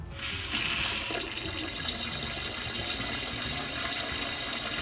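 Water sprays from the nozzle of a non-electric bidet toilet attachment, a steady close hiss that starts abruptly and runs without a break for nearly five seconds, with no talking.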